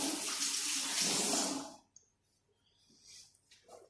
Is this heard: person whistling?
no